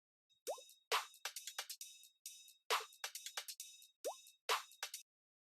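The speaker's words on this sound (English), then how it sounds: "I added this percussion loop from Cymatics, and it has this really cool water effect that I got super inspired with." A Cymatics percussion loop with a watery effect plays a crisp pattern of plopping, droplet-like hits with pitched bloops, in a bouncy rhythm that repeats after about two seconds, alone and clean.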